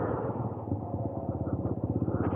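TVS Apache RTR 200 4V motorcycle coasting in second gear with the throttle released, a low, pulsing engine burble that grows into a quick steady thump, close and alone with no talk.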